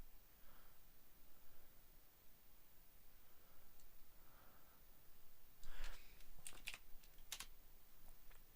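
Quiet clicks of a computer keyboard as someone types, sparse soft taps early on, then a quicker burst of sharp keystrokes near the end, close and low in level with no talking.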